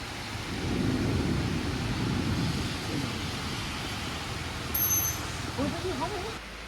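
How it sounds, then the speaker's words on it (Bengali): Heavy rain falls during a storm in a steady broadband rush with a low rumble beneath, constant and close, and a brief voice murmurs near the end. "সুন্দর বৃষ্টি শুরু হয়ে গেল একটা"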